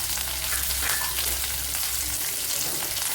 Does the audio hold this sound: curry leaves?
yes